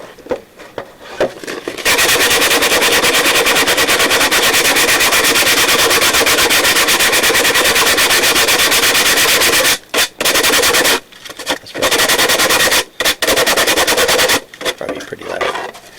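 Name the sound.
sandpaper sanding a wooden fish tail piece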